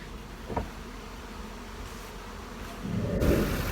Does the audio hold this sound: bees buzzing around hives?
yes